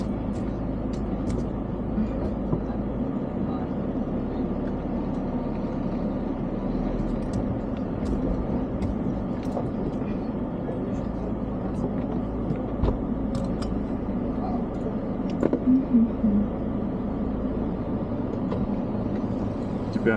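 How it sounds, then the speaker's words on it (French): A vehicle engine idles and runs in a steady low rumble on a rough road in Afghanistan, a constant drone with brief faint voices over it. "Tu peux arrêter le moteur?"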